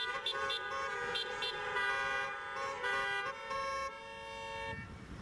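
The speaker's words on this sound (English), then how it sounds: "Honk your horns if you love Jesus." Several car horns honk together in sustained, overlapping blasts and short toots at a funeral tribute gathering, loud and continuous before tapering off near the end.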